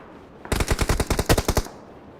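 An automatic weapon in the PUBG Mobile video game fires a rapid burst of about a dozen sharp, evenly spaced shots lasting just over a second, close and loud with no talk.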